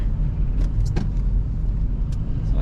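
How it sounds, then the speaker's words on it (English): A truck on a snowy road near a road closed sign after a spring blizzard, a steady low engine rumble and tire noise holding close throughout with a few faint clinks on top. "And we got a truck here that"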